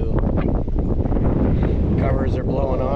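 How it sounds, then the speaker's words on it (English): Strong wind blowing outdoors at a new home build site near open water with whitecaps, a loud, constant buffeting roar across the microphone, with a voice speaking underneath. "you can hear the wind"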